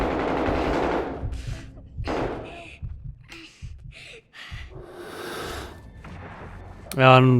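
Gunfire in Call of Duty: Modern Warfare (2019): a few sharp shots and short bursts scattered under near, steady talk, ending with a louder clattering burst.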